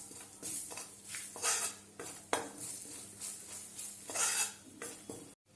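Gram flour and crushed ginger are stirred and roasted in a pan for a spiced pointed gourd curry made without garlic or onion. A spoon scrapes repeatedly against the metal in an uneven rhythm, close and fairly loud, with no talking.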